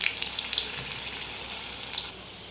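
Vegetable Manchurian balls frying in hot oil over a high gas flame, a steady soft crackling sizzle with a few sharper pops, close and alone without talk.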